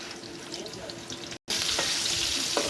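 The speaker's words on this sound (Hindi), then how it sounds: "इस प्याज को हमने हल्का सा गोल्डन ब्राउन करना है" A medium chopped onion fries in hot oil in a pan with a steady, dense sizzle and crackle. The sizzle drops out for a moment, and a few light stirring knocks come through.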